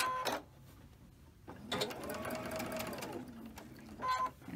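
A sewing machine stitches quilt blocks in a steady, close whirring run of about two seconds, bracketed by short bursts of stitching at the start and end.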